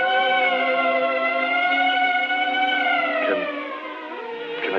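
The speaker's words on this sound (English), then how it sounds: "The ambulance." An old-fashioned wailing ambulance siren, a loud sustained tone that slowly falls in pitch as it winds down, heard alone and fairly close.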